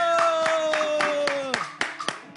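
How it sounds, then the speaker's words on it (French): An audience at a Togolese gathering claps in a loose, roughly regular rhythm, distinct claps a few tenths of a second apart with a sustained tone and voices underneath, growing a little sharper toward the end. "applaudis pour ça"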